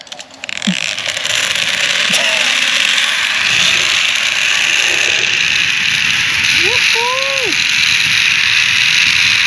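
A zip line trolley runs along the cable, giving a sustained high metallic whir and rattle, with faint voices and a few brief shouts in the background.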